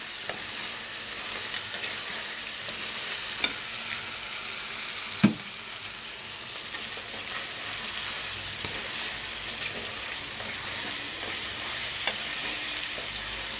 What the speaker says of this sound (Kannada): ಶುಂಠಿ ಬೆಳ್ಳುಳ್ಳಿ ಉಪ್ಪಿಟ್ಟು ಒಂದು ಸ್ವಲ್ಪ ರೋಸ್ಟ್ ಆಗಲಿ